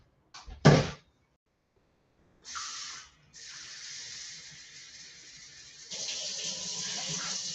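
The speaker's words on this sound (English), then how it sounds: "the only thing I'm going to add to that is 2 cups of water" Tap water runs into a cup while two cups of water are measured out in a kitchen, starting with a short clatter, then a steady splashing stream that brightens toward the end, with no talk.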